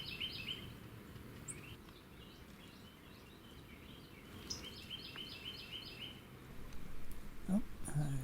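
A bird in the Texas Hill Country gives repeated sharp high "spick" calls in short series, moderately near over a quiet outdoor background, with rustling and a brief low knock toward the end.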